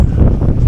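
Strong wind buffets the microphone at a cliffside viewpoint, a loud low rumble filling the brief moment.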